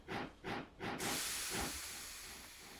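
A steam locomotive in a train game gives three short rhythmic chuffs, then a loud, long hiss of escaping steam that slowly fades, with no voices.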